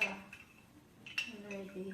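Cornstarch is stirred in a bowl, giving a few quiet clinks and scrapes of a utensil against the dish, soft and close, with a voice talking over part of it.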